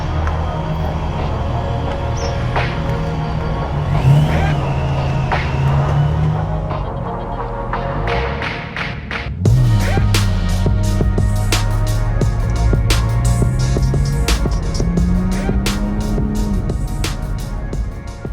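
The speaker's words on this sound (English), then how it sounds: "It comes straight through into the tailpieces and straight out the exhaust with no restriction, no silencers or anything." A supercharged Porsche GT3 with a custom straight-through exhaust, no silencers, drones loudly and steadily up close, its pitch rising and falling as it is revved, with a brief dip before the tone swells again.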